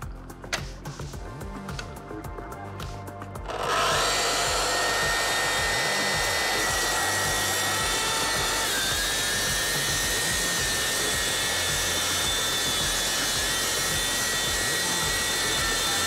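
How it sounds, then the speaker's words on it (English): A Festool TS 60 K plunge-cut saw rips through 50mm oak: a short quiet lead-in, then the motor surges into a loud, sustained, close whine of the cut that holds steady to the end. "Watch how effortlessly this rip cut in 50mm oak is made."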